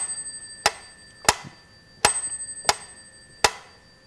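A bell rings in sharp, bright strikes, five or six of them in an uneven rhythm, each leaving a short ringing tail. The strikes are fairly close and nothing else is heard.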